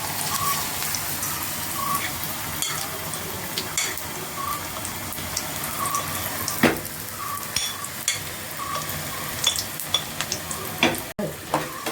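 Raw papaya bajji batter frying in hot oil, a steady close hiss of sizzling with scattered clinks and scrapes of stirring, with no talk.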